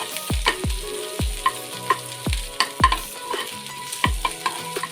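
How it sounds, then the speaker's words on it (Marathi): Green chilies sizzle and fry in hot oil in a pan, with a steady crackle broken by repeated sharp clinks and scrapes of a spoon stirring against the metal, close and fairly loud, no talking. "आता आपण मिरची सुद्धा चांगली परतून घेऊया"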